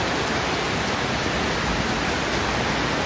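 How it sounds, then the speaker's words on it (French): Heavy rain falls hard and steadily, a loud, even wash of noise that stays constant and has no talking over it. "La pluie est vraiment forte."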